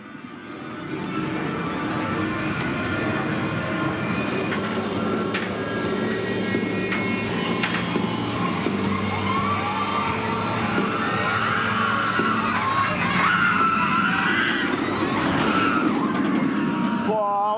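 Swarm, a B&M roller coaster at Thorpe Park during Fright Nights, rumbles steadily with a roaring train passing and rising clatter, heard over crowd noise and scattered voices in a busy theme park.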